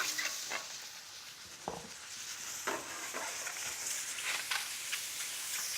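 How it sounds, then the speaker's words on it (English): Marinated shrimp sizzle steadily in a hot pan once used for warming tortillas, a soft, constant hiss with occasional stirring scrapes and no voices. "I'm going to work in the same hot pan that I heated the tortillas in, and I'm going to dump my shrimp"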